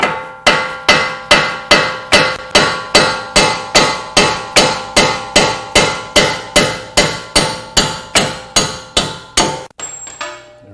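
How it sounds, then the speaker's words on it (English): A sledgehammer taps on a part of a GM 3.6L engine from an Acadia, Traverse or Enclave SUV, about twenty loud, evenly spaced metallic strikes, each ringing briefly before the next, with no talking. "I'll tap it with the sledgehammer."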